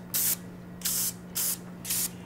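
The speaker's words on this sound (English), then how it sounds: "I always spray my cupcake papers with a little bit of spray oil." Spray oil misted onto paper cupcake liners in four short, even hissing bursts, close and loud, with brief pauses between them.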